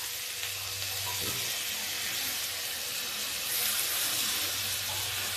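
Boiled wheat grains and black chickpeas tipped into a karahi of cooking tomato and turmeric, giving a loud, constant hissing sizzle with a brief clatter as they land.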